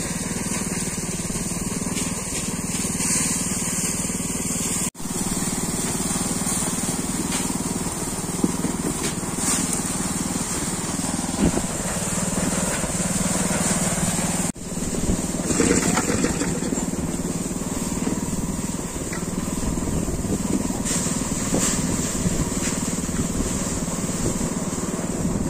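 An engine-driven rice threshing blower machine runs in a steady, loud mechanical drone at close range, with faint talk under the noise.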